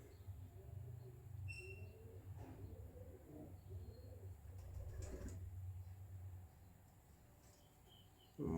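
Sialkoti pigeons coo softly in a breeder's loft, low repeated murmuring calls with a few faint chirps, quiet and fairly close with a brief louder knock at the end.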